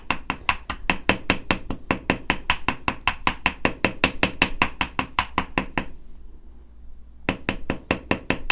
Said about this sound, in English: harden it with my nylon hammer, just really quickly